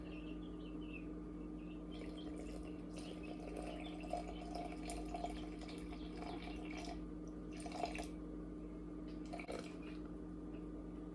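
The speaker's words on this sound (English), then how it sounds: "Then we're going to add 340 grams of water." Water is poured into sourdough flour in a bowl, a quiet wet trickle and splashing in bursts over a steady low hum, with no one speaking.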